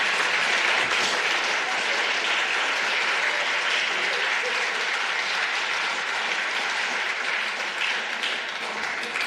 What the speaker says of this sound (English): So please all stand up and join me with a huge round of applause.